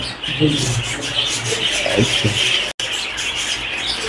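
A lutino pair of pet birds in a bird shop gives off a steady stream of soft chirps and tweets over a busy, noisy background, with a brief dropout near the end.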